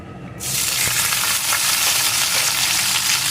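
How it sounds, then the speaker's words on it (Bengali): Cut drumstick stems dropped into oil with reddened tempering spices for dal shuktani, a sudden burst of sizzling that settles into a loud, steady frying hiss with light stirring. "ডাটাগুলো দিয়ে কিন্তু বেশি ভাজব না একটু পিটোপিট করে নেড়ে নেব"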